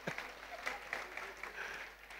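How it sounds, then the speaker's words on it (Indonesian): Church congregation applauding during a Sunday worship service, a steady wash of clapping held at moderate level throughout with a voice over it. "Tepuk tangan lu buat istri saya, doi."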